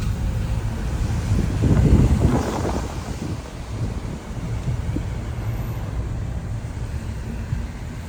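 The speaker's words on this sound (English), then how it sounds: "As you can see, it's quite windy." Strong wind roars during a storm amid severe flooding in Coimbra, Portugal, buffeting the microphone in loud, steady gusts with a swell of rumbling force near the start and no speech.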